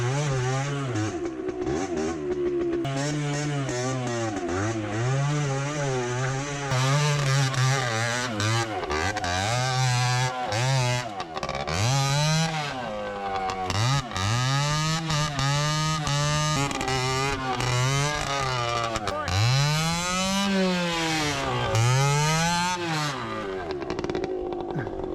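A three-wheeler trike's engine revs repeatedly, its pitch rising and falling in wavering sweeps across the whole stretch, close and continuous with no voices.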